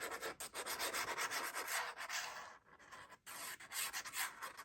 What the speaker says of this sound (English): So again, we cut from the score line out, never into our score line. Burnish it again.